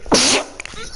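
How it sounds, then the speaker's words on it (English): A single sharp human sneeze, close and loud, bursting out briefly and then trailing into quiet. "Bless me, I'm just sneezing."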